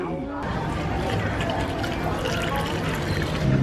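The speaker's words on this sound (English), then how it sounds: "And we just fill it up with water, don't we?" Water poured over ice into a glass at a Pattaya street-side eatery, a steady trickling pour running several seconds beneath chatty voices and busy background noise.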